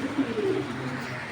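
A male red check racing pigeon of Belgian bloodline gives a short, soft, low coo close by, a brief rolling call over faint background noise.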